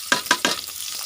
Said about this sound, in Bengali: এখন আমার পেঁয়াজটা ভাজা হয়ে গেছে